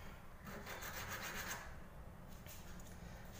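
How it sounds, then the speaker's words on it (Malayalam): A cut piece of a homemade wooden fishing lure rubbed back and forth to even the cut, giving faint, close scraping strokes in two short bursts. "നമ്മൾ കട്ട് ചെയ്ത ഭാഗം രണ്ടും ഒരേ അളവിലാകാൻ വേണ്ടിയിട്ട് ഒന്ന് ഉരച്ച് ഇതുപോലെ ഒപ്പമാക്കി കൊടുക്കണം."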